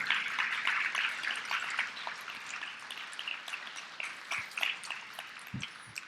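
A church congregation applauding after a sermon line on the resurrection, a steady wash of clapping from many hands that thins and turns patchy toward the end, with scattered louder claps near the close.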